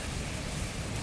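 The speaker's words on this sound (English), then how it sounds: "Heavy rains, gushing winds lashed the city of Kolkata." Heavy rain from Cyclone Amphan pours down over Kolkata, a dense, unbroken roar of falling water at full loudness.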